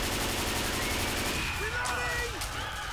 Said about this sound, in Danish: Axel, det var dig med shotgun.